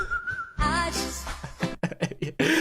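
Someone whistles a short melodic tune from a song, wavering in pitch, mixed with bursts of other noise and sharp sounds.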